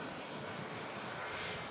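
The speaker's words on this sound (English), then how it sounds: "The Pegasus just touching down from Istanbul" Pegasus airliner arriving from Istanbul and touching down at Manchester Airport, a steady broadband engine roar heard from a distance, constant in level throughout with no voices.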